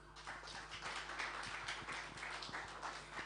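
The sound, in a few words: church congregation applause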